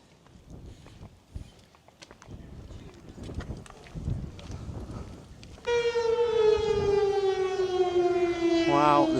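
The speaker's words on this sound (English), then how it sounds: "the siren is going off now" Civil defense siren sounding outdoors near an RNLI lifeboat station at Wells-next-the-Sea, Norfolk, starting partway through and holding a loud, steady wailing tone with rising harmonics over breezy beach ambience and footsteps.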